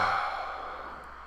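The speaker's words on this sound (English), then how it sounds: "And breathe here. Big breath." A single long, soft exhale of a deep breath during a gentle yoga spinal twist, steady and breathy, close and quiet with no talking.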